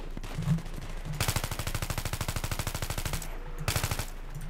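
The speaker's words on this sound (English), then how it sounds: "Stop shooting at me!" Rapid machine gun fire in the video game Battlefield 3: a long sustained burst of fast, evenly spaced shots, a brief pause, then a shorter second burst, loud and close over a low background rumble.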